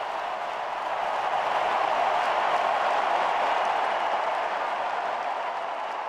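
A tennis crowd at the 2024 US Open final applauds after Taylor Fritz hits an overhead winner, a dense, sustained wash of clapping that swells slightly and then holds steady throughout.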